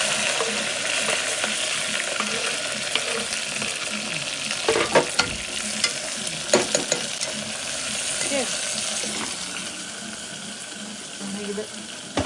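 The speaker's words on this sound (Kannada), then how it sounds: "ಟಮಾಟಿ ಎಲ್ಲ ಹಾಕಿಬಿಡೋದು." Chopped vegetables and tomatoes stir-frying in oil for veg pulao, a close continuous sizzle broken by several sharp scraping and clanking stirs, with faint talk in the background.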